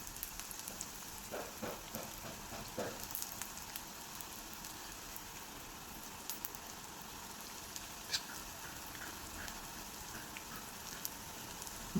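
Spoonfuls of pakavada batter fry in hot oil, a low steady sizzle scattered with small crackles and pops, fairly quiet and with no voices.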